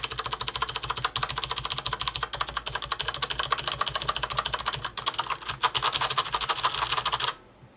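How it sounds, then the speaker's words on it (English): Fast, steady clacking of keys on a mechanical keyboard, close and continuous, ending abruptly near the end. "we've got the mechanical keyboard over here"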